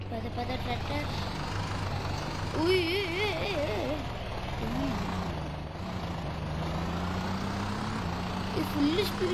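A tractor engine in a video game drones with a low, steady rumble, a continuous near hum that stays loud throughout while a voice chatters over it, with a faint high whine drifting above.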